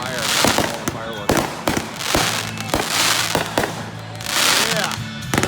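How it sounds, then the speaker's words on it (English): Backyard fireworks from a July 4th display in Fort Myers, Florida: repeated sharp, loud bangs and crackling bursts at irregular intervals, with people talking and reacting between the blasts. "Firework."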